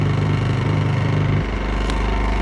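A Champion 2500 dual fuel inverter generator runs steadily in eco mode, a loud continuous engine drone whose low hum shifts partway through as the load changes, with no talk over it.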